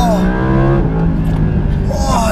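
An Audi R8 V10 Plus, a four-wheel-drive 610-horsepower car, accelerates hard close by, its engine rising in pitch through a gear, with excited talk over the roar.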